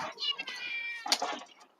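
A cat meows in a long, drawn-out call with a second shorter cry near the end, close by and fairly clear, with some background voice activity.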